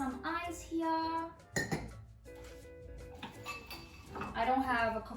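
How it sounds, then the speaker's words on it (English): Ice cubes clink and clatter into a glass at home for a minty drink. Sharp rattling bursts come through steady talking, close and moderately loud. "So you want to add some ice here."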